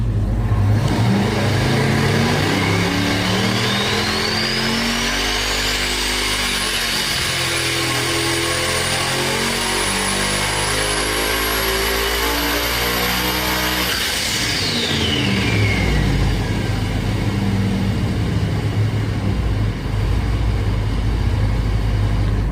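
Car fitted with a 3D-printed stainless dual water-to-air intercooler setup, its engine revving hard and rising with a turbo whistle, holding high, then dropping back to a loud idle.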